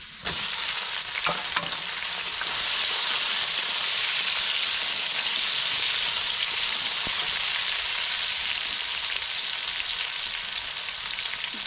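Ridge gourd added to potatoes fried until red-brown sets off a loud, continuous close-up sizzle and hiss, with a few light stirring clicks and no voices.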